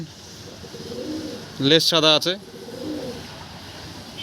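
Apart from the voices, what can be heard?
pigeons cooing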